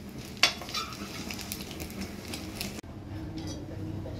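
Oil heats in a wok, giving a soft, steady low hiss throughout, with a faint clink near the start and a slight shift in the background partway through.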